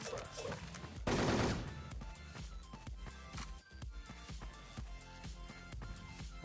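Bursts of rapid automatic gunfire in the online shooter Wolfteam, sharp repeated cracks in quick runs over background music, with one dense loud volley near the start.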